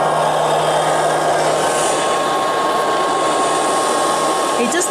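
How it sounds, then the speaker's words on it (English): A Liectroux B3000 robot vacuum running indoors, a steady, loud whirring motor hum with a faint tonal whine, continuous and unchanging. "gives a good sweep in areas that we would have difficulty getting a larger vacuum cleaner"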